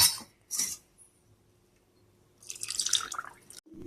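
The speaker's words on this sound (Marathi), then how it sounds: "आता याला आपण गाळून घ्यायचं आहे पाणी घालून थोडं थोडं." Tamarind pulp strained with water for pani puri: close, crisp bursts of liquid dripping and trickling through a strainer, with faint metallic clinks, separated by a quiet gap.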